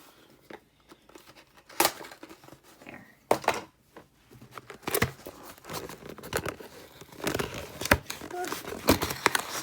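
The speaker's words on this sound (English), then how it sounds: "I'm opening up this month's Vintaj VIP box" Packaging of a Vintaj VIP subscription box being torn and crinkled open during an unboxing, with close, irregular bursts of rustling and ripping that grow busier toward the end.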